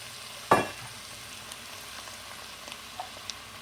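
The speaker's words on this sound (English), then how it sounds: "Now you're going to add your tomatoes." Tomatoes drop into a frying pan of softened vegetables with one short, loud splash and sizzle, then a quiet steady frying hiss with a few faint clicks.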